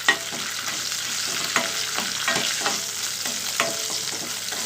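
Curry leaves and dried red chillies sizzle and crackle steadily in hot oil for a tempering for ridge gourd peel chutney, with occasional sharp pops and spoon stirs, close and continuous with no talking.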